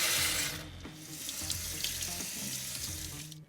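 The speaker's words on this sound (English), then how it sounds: "I rinsed it with cool water just to remove some of the excess starch so the pasta doesn't stick to each other" Cool tap water runs close and steady over freshly boiled macaroni in a kitchen sink, a continuous splashing rush with soft clatters as the pasta is rinsed.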